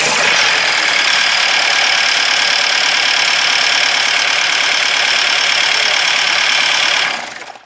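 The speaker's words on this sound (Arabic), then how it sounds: "هذه فيه صوت مزعج شوية، لازم فما غلطة في الشان" A car engine idles steadily with a rough, harsh mechanical noise, loud and close, with no talk over it, before cutting off near the end.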